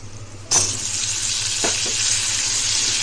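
Drumsticks seasoned with turmeric and salt drop into a hot pan, setting off a loud, steady hiss of frying that continues unbroken after a brief quiet start, with a couple of soft knocks.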